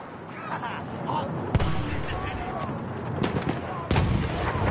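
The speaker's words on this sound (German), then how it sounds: "Da findet eine Schießerei statt" Gunfire and explosive blasts from a Battlefield 1 battle, with a heavy boom near 1.5 s and another near 3.9 s over a dense, rumbling background of distant shooting and a tank nearby, someone talking over it.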